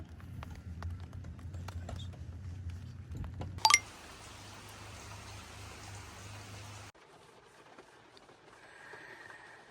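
Rain falls on a tent at a campground as a soft, steady patter. A sharp rustle interrupts it, then a brighter hiss of rain holds for a few seconds before fading to a quieter wash.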